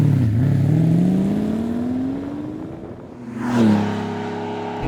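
A 1988 Lamborghini Countach 5000 QV revs its exhaust up close, the engine note climbing steadily, dropping off, then rising in a second sharp rev before easing back, loud and with no talking.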